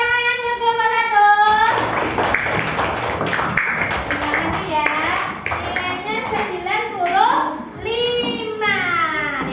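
Classroom clapping for a student group during an Indonesian lesson, a burst of children's hand claps under and around a teacher's voice and children's chatter, with talking continuing before and after the clapping.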